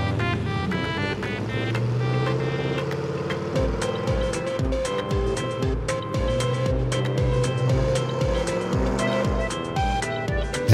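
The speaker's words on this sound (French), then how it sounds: "Les voitures s'en vont." Cartoon cars drive away in a children's animated show, their engine noise running under a busy music track with steady rhythmic thumps and bright melodic notes, with no talk.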